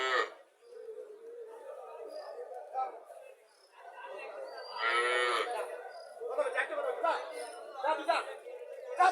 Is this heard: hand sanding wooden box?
no